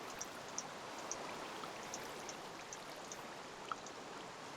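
Water poured from a bucket in the Minecraft video game flows steadily as a soft, continuous trickling wash, with faint occasional drip-like ticks over the top.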